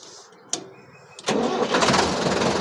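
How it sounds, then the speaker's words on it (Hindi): Sonalika 60 DI tractor engine starting: two short clicks, then the diesel catches and settles into a loud, steady chugging idle close by. "देखो ट्रैक्टर को स्टार्ट किया"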